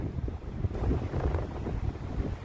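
Strong wind gusts on a windy morning outdoors, buffeting the microphone with a loud, close, low rumble that surges and eases throughout.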